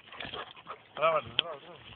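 A hunting dog whimpers and gives short yelping barks nearby during a woodcock hunt, mixed with someone speaking.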